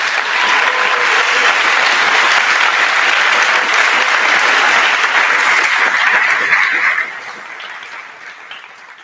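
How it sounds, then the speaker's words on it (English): Sustained loud applause from a sizable crowd, steady for several seconds and then thinning out and fading toward the end. "let's give a round of applause and recognition for City College of San Francisco's Joseph C"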